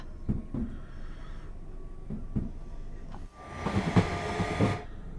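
An IET train runs quietly in Train Sim World 5 on a West Cornwall local service: a low steady hum with a few soft clunks, then a swelling hiss of rushing air near the end.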